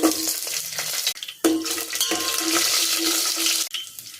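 Garlic sizzling in hot oil with fenugreek, mustard seeds and cumin for an anchovy fish curry, a steady bright crackle with brief stirring breaks, close and loud with no talking.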